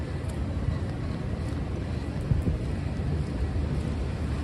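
Wind gusts along a rainy Midtown Manhattan street near Columbus Circle during a night rainstorm, producing a constant low buffeting rumble against the microphone with a steady wash of outdoor noise.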